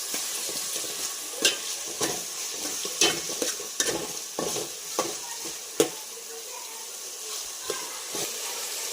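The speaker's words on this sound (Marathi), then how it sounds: "घालणार आहोत आपण आलं लसूणची पेस्ट आणि थोडंसं फ्राय करून घ्यायचं आहे" Ginger-garlic paste sizzles steadily in a hot pan for spiced masala rice, with scraping stir strokes and light clinks breaking through at irregular intervals, close and alone.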